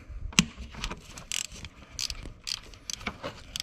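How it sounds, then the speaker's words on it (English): A 10 mm ratchet loosens the thermostat housing bolts on an overheating engine, giving faint, quick metallic clicks and scrapes close by in a quiet space. "now you take your 10 mil and you want to pop off those 3"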